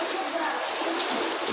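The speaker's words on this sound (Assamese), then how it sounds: "কিন্তু বাহিৰত বৰষুণ যে" Rain falls steadily outdoors in Assam, a dense, even hiss of drops on surfaces that stays constant for the whole short stretch, with no voices over it.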